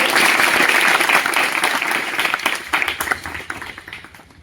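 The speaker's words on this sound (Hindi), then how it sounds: "तो ताली हो जाएगा।" Schoolchildren at a primary school clap together in a burst of applause, loud and dense at first, then thinning and fading over a few seconds.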